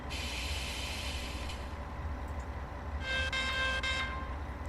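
A locomotive in Train Sim World 5 on the Maintalbahn between Aschaffenburg and Miltenberg runs with a low, steady engine rumble, faint and even throughout. A brighter tonal hum swells briefly near the middle.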